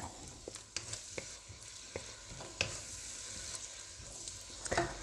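Beef frying in a pan with ginger, a soft continuous sizzle with frequent light scrapes and clicks of stirring, close but fairly quiet.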